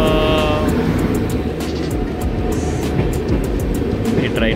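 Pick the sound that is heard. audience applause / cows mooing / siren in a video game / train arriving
train arriving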